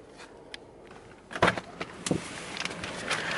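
Motor whirring as the moonroof of a 2015 Nissan Altima closes on a hot day, close and moderately loud, with several sharp clicks and knocks along the way, the longest burst mid-way and the hum rising again near the end.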